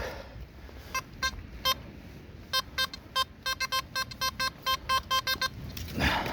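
Short electronic beeps from a metal detector repeat in an irregular burst of tones, clear and close against faint outdoor background noise.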